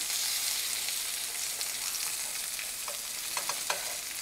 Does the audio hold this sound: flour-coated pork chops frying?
yes